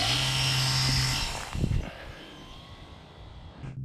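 A supercapacitor-powered electric model airplane's motor buzzes loudly and steadily, then drops away and falls quiet before a faint whine returns near the end.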